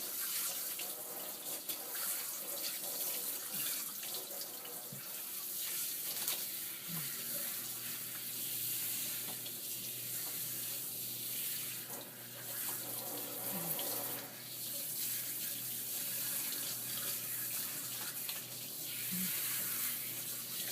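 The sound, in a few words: water rinsing a cat's coat during a bath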